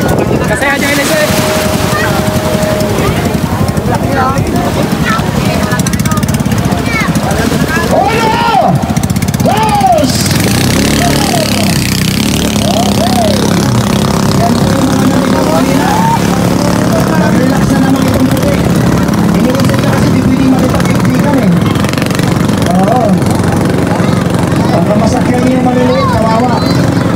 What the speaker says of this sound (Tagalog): Umaandar po ang makina.